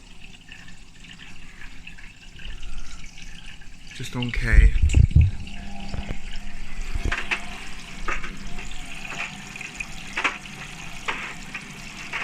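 A 2004 Hotpoint WMA32 washing machine on cold fill takes in water with a steady rushing hiss and a sudden clunk partway through, while a person speaks briefly over it.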